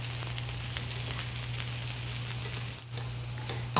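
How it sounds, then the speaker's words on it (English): Sliced cremini mushrooms sautéing in a pan for a mushroom and cheese frittata, a steady close crackle and sizzle with a few soft stirring taps, no voices. "you just want to saute this for about 4 to 5 minutes or until the mushrooms are lightly browned"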